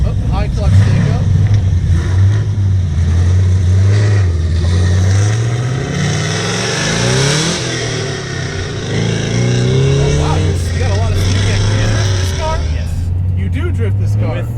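A built, LS-powered 1988 Mitsubishi Starion making 515 hp pulls away, its V8 droning close and loud, then rising and falling through revs, while people talk over the engine.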